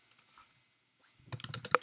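Quick bursts of clicky keystrokes on a computer keyboard while entering an npm command, a few faint taps and then a dense, close run of typing toward the end.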